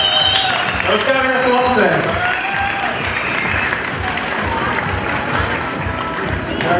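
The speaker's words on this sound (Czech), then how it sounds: "Aplaus" Crowd applause at a TCB fight night MMA event, a steady wash of clapping and cheering filling the arena throughout, with an announcer speaking over it.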